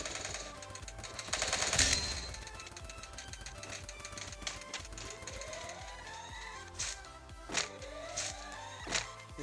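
Teammates' guns firing in Free Fire, a rapid rattling burst of automatic gunfire followed by several separate louder shots spaced a second or so apart.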